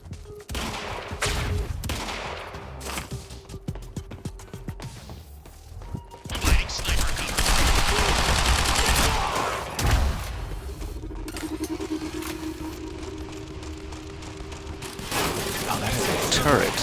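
Bursts of suppressive gunfire from the Quantum Break video game crackle in rapid volleys with thuds and mechanical clanks, loud and sustained in stretches, with a voice talking in between.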